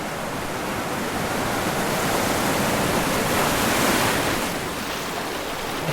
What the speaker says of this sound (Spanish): Y por supuesto, el sonido del mar, que contiene a la isla y a la vez la deja tan lejos de todo.